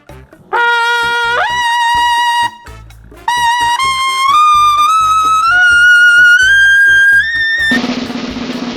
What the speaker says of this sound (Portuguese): Esse instrumento é um trompete.